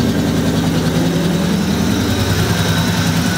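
A shop truck's engine idles with open headers burning off smoke, a loud, continuous low rumble with steady vibration throughout and no voices.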